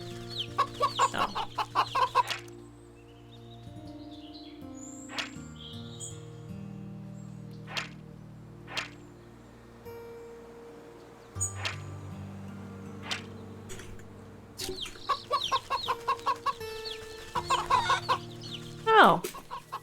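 Chickens cluck in bursts in the video game Wytchwood, rapid clucking flurries at the start, middle and end over a calm musical backdrop, with a few isolated sharp game sounds between.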